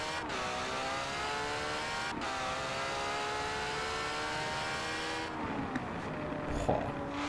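An Italian sports car engine revs high and strains through gear changes in Forza Horizon 4, loud and continuous with brief shifts and no talking.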